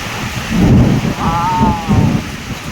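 Rain pours steadily onto surfaces with low rumbles of thunder rolling through, loud and close, with a brief tonal sound in the middle of the downpour.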